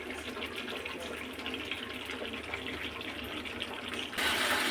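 Water or spiced stock poured into a pot of braised meat curry, a steady close gush of liquid that grows louder and brighter near the end.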